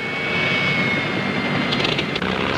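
The Rolls-Royce-engined Miss Lapeer hydroplane racing boat at the 1967 Gold Cup in Seattle, about 2,000 horsepower with a propeller near 12,000 rpm, gives a loud continuous roar that fills the whole stretch without a break.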